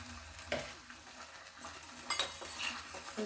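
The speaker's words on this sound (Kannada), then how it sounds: "ಇದು ಕುದೀತಾ ಇದೆ ಇದಕ್ಕೆ ಸ್ವಲ್ಪ ಕೊಬ್ಬರಿ ಎಣ್ಣೆ" Homemade lip balm mixture with coconut oil bubbling in a pan, with soft, uneven sizzling and a few light clinks and scrapes of a utensil stirring, quiet and close.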